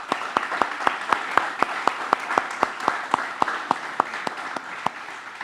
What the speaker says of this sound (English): let's just give all of those people that worked on this another round of applause